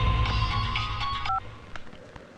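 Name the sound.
telephone being dialed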